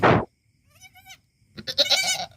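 Newborn goat kid bleating, with a loud close cry at the start, a thinner bleat a moment later and a longer wavering bleat at the end over low background noise.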